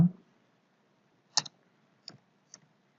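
A computer keyboard's Enter key being pressed, with three sharp isolated clicks spaced about half a second apart after a brief initial tap, close and clear in an otherwise quiet room.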